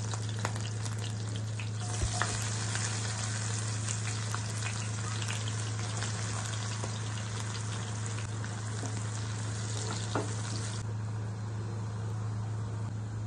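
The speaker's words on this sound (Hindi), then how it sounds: "तापरे हमें एथरे काटी रखिथिबा प्याज को पकेवा" Chopped onions frying in a pan for an Odia mushroom curry, a steady close sizzle and crackle that stays constant throughout, over a low hum, with occasional light clinks and no speech.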